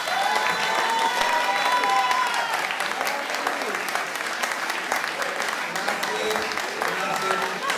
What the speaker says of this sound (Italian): Un bel applauso.